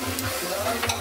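Pork chops fry in oil in a pan with a steady crackling sizzle and brief bursts of spattering, heard close up with no talk.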